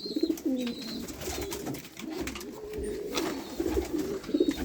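Pigeons coo steadily in a loft where chicks are being tended, a soft repeated warbling close by, with occasional faint chirps above it and no one speaking.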